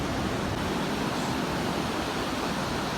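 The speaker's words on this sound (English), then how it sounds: "This is how the sea waves are." Sea waves surge at Laboma Beach in Accra, a steady, loud, dense roar of surf filling the whole recording without a break.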